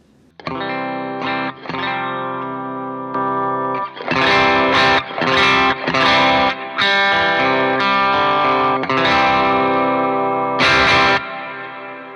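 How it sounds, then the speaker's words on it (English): Electric guitar played through an overdrive pedal, sustained gritty chords and riffs ringing out with brief stops between phrases, loud and saturated. "just flick on the pedal so that you can hear how it sounds after the clean, since it's a drive pedal"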